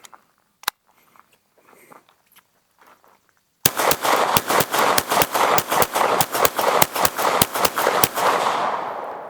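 A CZ Shadow 2 pistol fired in double action, one-handed, lets off a rapid string of about twenty sharp, loud shots in steady rhythm after a single earlier shot and a quiet pause.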